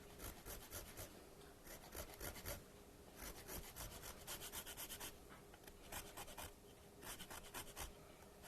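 A lime is rubbed against a zester in a kitchen, giving steady rasping scrapes in quick repeated strokes, close and clear with no talking.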